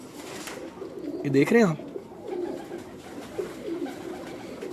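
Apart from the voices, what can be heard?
Salara pigeons cooing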